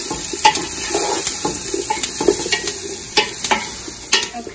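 Pepperoni fries in a pan over a medium flame, with a continuous sizzle and the repeated scrape and clack of a utensil stirring it, loud and close.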